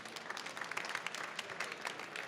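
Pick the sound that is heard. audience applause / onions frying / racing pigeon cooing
audience applause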